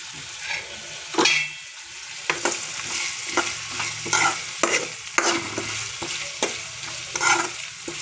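Green chillies fry in a pan of oil for chitranna, a steady close sizzle broken by repeated scraping stirs of a spatula, with no talking.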